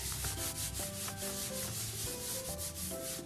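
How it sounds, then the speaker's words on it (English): A hand rubbing paper firmly over inked leaves to make a botanical print without a press, a loud continuous scrubbing friction close up with a few faint tonal squeaks, steady throughout and with no talk. "put on the edge where the mark is and then rub"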